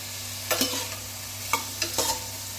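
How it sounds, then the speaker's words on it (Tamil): Green chillies, mixed vegetables and onions sautéing for sambar: a few sharp spoon scrapes and clicks against the pan over a soft, low sizzle with a steady background hum. "ஆட் பண்ணிவிட்டு நல்லா வதக்கி இந்த போட்ட காய்கறி வெங்காயம் எல்லாமே நல்லா வதங்கட்டும்"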